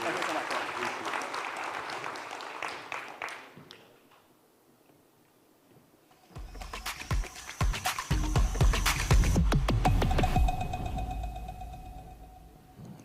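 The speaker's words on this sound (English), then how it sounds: "I want everyone, please give a round of applause to CZ for being open." Clapping rises from the audience at a fintech summit, first a fading crowd applause, then a short lull, then a louder burst of claps over a steady low hum from the hall.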